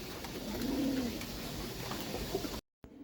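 Soft pigeon cooing rises and falls against a low background hum, fairly close, with a brief dropout near the end.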